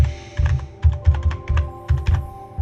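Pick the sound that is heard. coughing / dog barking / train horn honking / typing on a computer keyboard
typing on a computer keyboard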